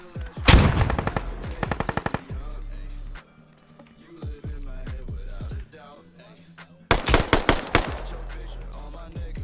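Rapid automatic gunfire and single shots ring out in a video game squad fight, loud bursts with short pauses between them, while players talk over the action.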